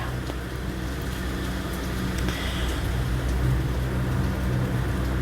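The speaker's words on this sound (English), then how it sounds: "you will be hearing rain and cars in the background" Rain falls steadily outside as a dense, even wash of noise, with a low rumble of passing cars underneath, continuous and fairly soft throughout.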